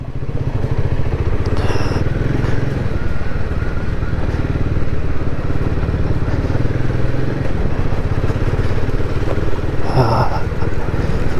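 A motorcycle engine rumbles steadily and loudly throughout, heard while riding a mountain road from Keylong in the Himalayas toward Ladakh, with some rattling.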